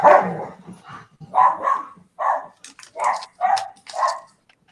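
A dog barks in a string of about seven sharp, separate barks at a steady rhythm, close and loud against a quiet background.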